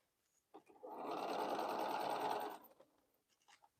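A Bernina sewing machine stitches fabric pieces for a flying geese quilt project, a steady close mechanical whir running for about a second and a half, with a few soft clicks and handling noises before and after.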